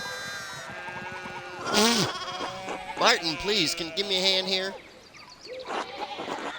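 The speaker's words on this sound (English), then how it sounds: "Look at them sheeps, man. We got all kinds of sheep." Sheep bleat repeatedly in the medieval video game Pentiment, several wavering calls close together over a quiet background, with a character's voice speaking between them.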